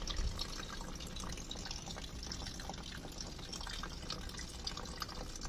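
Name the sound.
water running into a jar to rinse it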